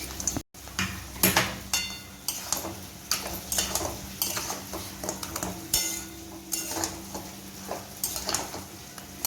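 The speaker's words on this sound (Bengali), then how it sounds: "এবার আমি কাঁকড়াটা আমি এবারে অ্যাড করছি" Crab being added to a cooked-down spice masala in a pan, heard as repeated clinks and scrapes of utensil against cookware over a faint background sizzle, close and fairly quiet.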